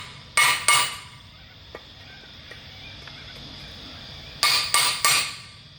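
Sharp metallic hammer taps on the edges of a concrete retaining-wall block come in quick clusters, two near the start and three near the end, with quiet background hum and faint clicks between.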